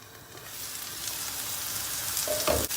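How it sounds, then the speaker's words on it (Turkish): Onions fry in a pan with a steady, close hiss that builds slightly, broken near the end by a brief utensil clink and stir. "Soğanımız istediğimiz aşamaya geldi. Çiğ kokusu gitti. Hafiften kavrulmaya başladı."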